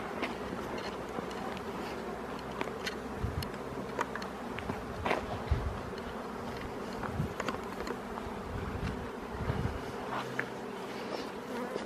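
Honeybee swarm flying overhead outdoors, a dense steady buzzing hum of many bees filling the air throughout, with individual bees zipping past close by and no talking.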